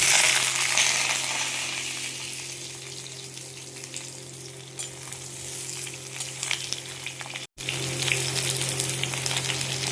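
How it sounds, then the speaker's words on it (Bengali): Vegetables including pumpkin and potato sizzle and fry in hot oil tempered with five-spice (panch phoron), a steady, close, loud crackle with stirring, alone with no voices. "ফোড়নটা হয়ে গেছে, আমি এবার সবজিগুলো দিয়ে দেবো"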